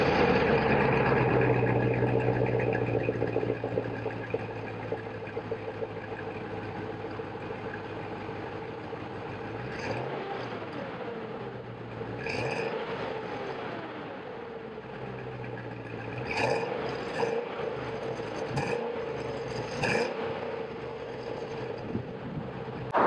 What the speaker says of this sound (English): why don't we go ahead and start it up, see how it sounds